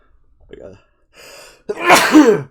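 A single loud, close sneeze bursts out after a brief inhaled buildup.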